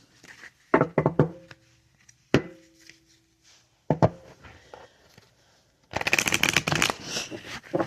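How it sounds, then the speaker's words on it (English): A deck of oracle cards being shuffled by hand, several separate riffling bursts close up with pauses between them, ending in a longer, denser run of shuffling. "I'm going to shuffle a few times"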